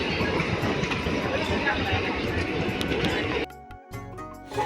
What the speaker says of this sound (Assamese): এয়া গাইজ, আমাৰ ট্ৰেইনখন আহিলে।